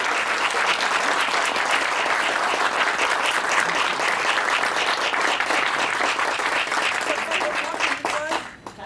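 Sustained audience applause at an awards ceremony, dense steady clapping filling the room, with a voice speaking briefly as it fades at the end.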